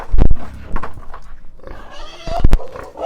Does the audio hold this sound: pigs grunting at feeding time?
yes